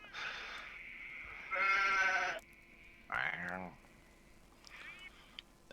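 Sheep bleating in an outdoor setting, a couple of loud harmonic calls standing out over steady background noise, with someone speaking faintly nearby.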